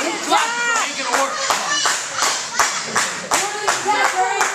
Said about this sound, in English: They want you to clap!